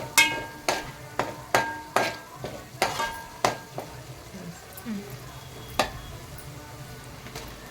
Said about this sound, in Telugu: కొంచెం ఆయిల్ పైకి తేలే వరకు ఫ్రై చేసుకుందాం